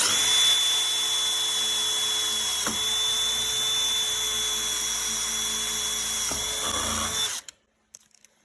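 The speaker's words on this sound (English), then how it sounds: "I'm going to drill right through those 3 layers." A steady high-pitched drill whine runs continuously for several seconds as a 1/8-inch bit bores through three layers of aluminum, then cuts off abruptly, leaving faint clatter.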